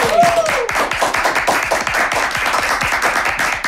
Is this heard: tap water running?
no